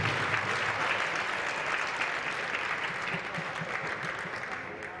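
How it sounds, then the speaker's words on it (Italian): Audience applause at a baskin (adapted basketball) tournament in Portogruaro, a steady crowd clapping that holds for about five seconds, fairly loud, with faint voices mixed in. "Maso Stefano, un grosso applauso anche per loro."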